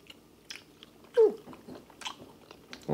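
Someone bites into and chews a turkey-shaped gummy candy up close, giving soft, sticky, wet mouth sounds with one louder bite in the middle over a quiet background.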